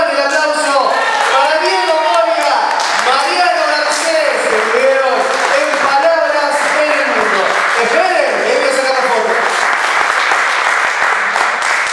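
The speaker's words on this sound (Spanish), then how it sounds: "¡Fuerte el aplauso!" Sustained audience applause at a live performance following a song, dense and steady for the full stretch, with a voice rising above the clapping.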